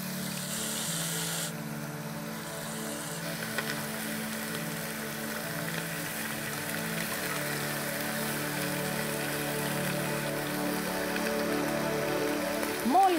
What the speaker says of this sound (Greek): Μόλις ζεσταθεί το λάδι στην κατσαρόλα, ρίχνω μέσα λίγα-λίγα τα κομμάτια του κρέατος να θωρακίζονται σωστά.